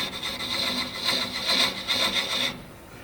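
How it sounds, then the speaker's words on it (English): A piece of utility board rubs against turned pecan wood, burnishing lines in a close, scratchy back-and-forth friction rhythm that stops near the end. "Here I'm just using a piece of utility board that I cut just to burnish 2 little lines"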